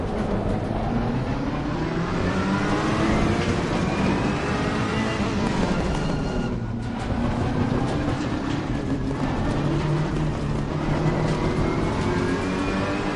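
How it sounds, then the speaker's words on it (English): A Ferrari race car in Assetto Corsa Competizione drones along at speed, a steady loud engine note with rising and falling pitch sweeps from gear changes, plus a brief dip midway. "This is the Ferrari."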